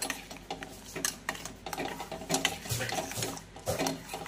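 A spoon stirs a glass of almond milk drink with quick repeated clinks and scrapes against the glass, close and fairly soft, with no talking.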